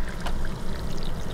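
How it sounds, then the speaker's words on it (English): Dry pasta tipped into a pot of boiling water for keto mac and cheese, a short rushing pour with a soft splash and bubbling, close up with no talk. "So I'm putting the pasta in."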